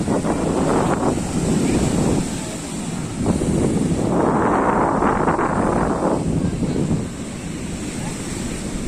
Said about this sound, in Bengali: সমুদ্র এখন তার তাণ্ডব লীলা চালাচ্ছে